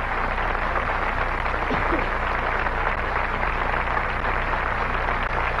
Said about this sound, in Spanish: para quien pide un aplauso muy grande